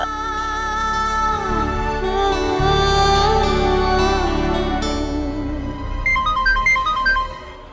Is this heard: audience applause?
no